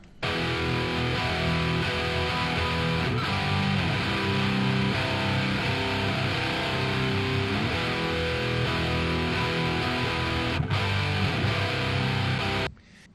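Heavy rhythm guitars from an ESP SC500 through a Mesa Boogie amp, a dense, loud, continuous distorted wall with chugging palm-muted rhythms, playing alone for about twelve seconds before stopping abruptly.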